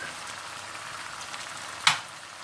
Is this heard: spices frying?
yes